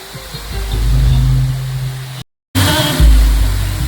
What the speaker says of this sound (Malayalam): വെള്ളച്ചാട്ടമാണ് വെള്ളച്ചാട്ടം